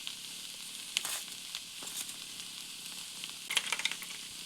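Vegetable chop filling with fried peanuts and spices sizzles steadily in a pan, with occasional stirring scrapes and small bursts of crackle throughout.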